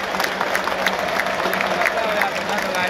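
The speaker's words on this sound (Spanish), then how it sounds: "Y después le damos el aplauso" Spectators in a football stadium during an Emelec versus Independiente del Valle match applaud and murmur as a sustained, dense crowd wash, with a commentator talking over the noise.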